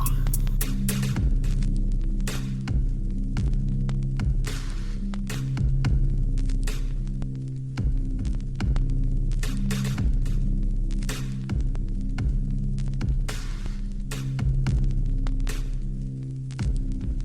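Aethercaster spirit machine running with a steady throbbing electrical hum, broken by sharp crackling pops and clicks scattered irregularly across the drone.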